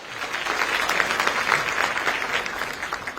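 Audience applause greets a government minister at a televised political forum stage event in India, a steady wash of many hands clapping, moderately loud and evenly sustained without speech.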